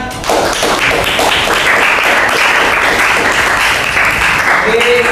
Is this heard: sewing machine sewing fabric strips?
no